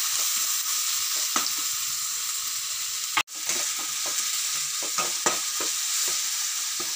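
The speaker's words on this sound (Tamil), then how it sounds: "வெங்காயம், கருவேப்பிலை, இது வந்து நல்லா பொரியுது" Onion and curry leaves fry steadily in a pan, a loud close sizzle broken by occasional spoon taps and scrapes, with no talk.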